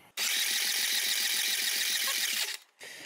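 A car engine cranks on its starter during a compression test, a loud, rapid, even chugging held close for over two seconds. It stops abruptly, and a short burst of noise follows.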